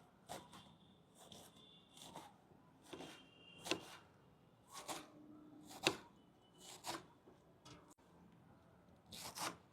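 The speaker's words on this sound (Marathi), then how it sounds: "आपण आता यांना कट करून घेऊ व्यवस्थित" Taro leaf stems are chopped on a board in a home kitchen, a steady series of crisp knife strikes, about a dozen sharp cuts spaced unevenly, close and fairly quiet with no talk.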